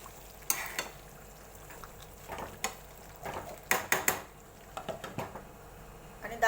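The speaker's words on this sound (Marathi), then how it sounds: "पुन्हा खाली वर करून मिक्स करून आपण त्याच्यावर झाकण ठेवूया" Hyderabadi masala chicken is stirred in a pan, giving a series of irregular spoon scrapes and clanks against the metal over a soft, low sizzle.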